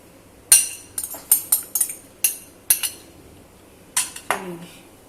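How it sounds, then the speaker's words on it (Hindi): Utensil or spoon clinking against a bowl while yogurt coating is mixed over chicken for a crispy zinger wrap, about ten sharp separate clinks in an uneven rhythm, close and clear with no talk. "और अब हम इसमें मिक्स कर देंगे। ये सारा चिकन के ऊपर लगा देंगे, ऐसे सारा अच्छी तरह से हमने कोट करना है इसको।"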